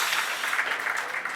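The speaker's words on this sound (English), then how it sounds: "You got an applause." A conference audience at a startup event applauds in a dense, steady burst of clapping that fills the whole moment, fairly loud and close.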